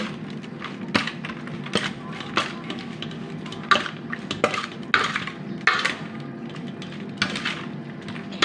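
Utensil stirring food in a pot while cooking bitter mushroom salad (koi het khom), repeated clinks and scrapes of metal against the pot at a steady rhythm, close and moderately loud, with no talking.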